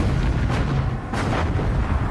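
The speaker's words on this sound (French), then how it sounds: "Les canons à guidage radar ouvrent le feu sur les navires américains." Radar-guided naval cannons open fire on American warships in the October 1944 Battle of Leyte Gulf, with heavy booming blasts rolling over a dense, rumbling background.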